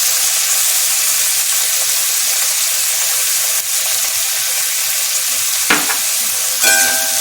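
Chopped onions fry with salt in a pan, giving a loud, continuous sizzle close up, with a brief stir or scrape near the end and no talking.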